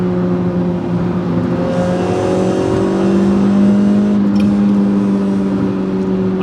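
A Suzuki Swift Sport (ZC31S) with a stainless steel exhaust revving steadily, its droning resonance loud and close with a rising and falling engine tone and no talk.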